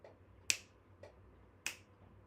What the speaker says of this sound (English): Snap your fingers, bro.